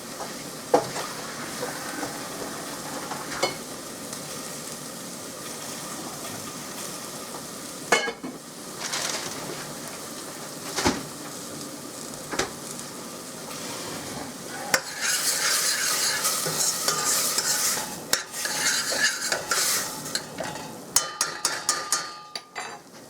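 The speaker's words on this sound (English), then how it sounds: "Cook up those onions a little bit" Onions frying in a pan for a Christmas Eve fish dinner, with a steady sizzle under repeated scraping stirs and sharp clacks of a utensil against the pan, growing busier and louder toward the end; no one speaks.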